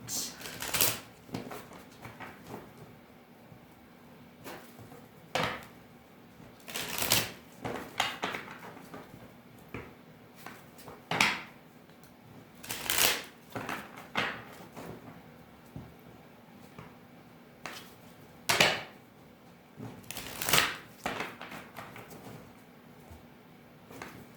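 Tarot cards shuffled and pulled by hand, repeated sharp riffles and slaps in irregular bursts over a quiet room, close up, with occasional faint talk.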